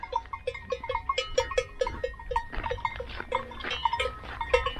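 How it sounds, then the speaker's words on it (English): A herd of goats on a rocky Greek island hillside, with bells clanking and jingling in a quick irregular rhythm as the animals move about at moderate distance. "A bunch of goats."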